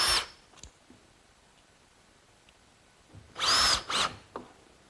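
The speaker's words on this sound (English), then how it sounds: "Now I'm fastening the 3/4 inch CDX to the 2x4s with some 1 1/4 inch screws." A power drill drives 1 1/4 inch screws through 3/4 inch CDX plywood into 2x4s: a short whir at the start, then a louder, longer two-part burst near the end, with quiet workshop room tone between.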